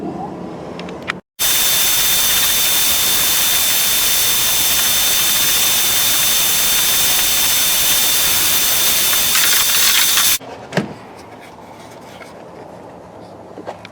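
Power sanding of a flats skiff hull, smoothing the surface for fiberglass; a loud, steady, hissing machine whine runs continuously for about nine seconds, then cuts off, leaving quieter handling noise.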